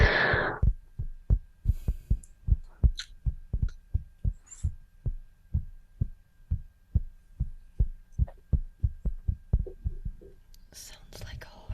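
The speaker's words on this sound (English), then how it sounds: "Sounds like a heartbeat, kind of." A steady heartbeat-like thumping repeats at a regular, fairly quick pace, deep and close, running for about ten seconds with soft whispering over parts of it.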